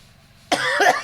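One sharp, close cough from a man bursts out of near silence and trails off in a rough, breathy tail.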